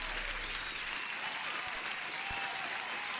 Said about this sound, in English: Sahid deserves an applause by taking the short.